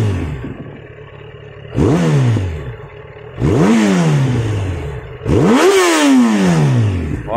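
A roadster motorcycle rated at 150 hp with a Road Italia exhaust, revved high three times in close succession, each rev climbing sharply in pitch, then dropping back to a rough idle.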